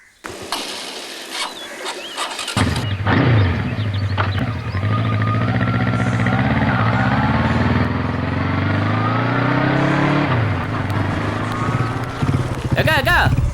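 A vehicle engine starts and runs loudly, holding a steady close drone as the vehicle drives off on a street, with people talking over it.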